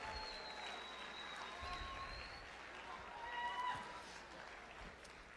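Quiet, distant applause from an audience at a talk on conservation, steady and soft, swelling briefly near the end, with faint whistled or feedback-like tones drifting over it.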